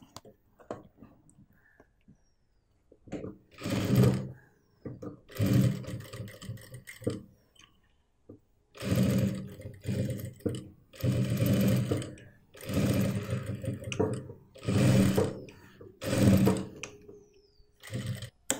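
A sewing machine stitching a lined bag made from old jeans, running in several bursts of rapid mechanical whirring and clatter separated by short pauses, close and fairly loud with no talking.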